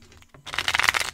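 Tarot cards shuffled for a reading, a quick riffling burst of papery flutters that starts softly and swells into a dense, close, crisp run lasting under a second, with no talk.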